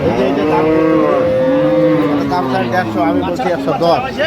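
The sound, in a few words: cattle mooing at market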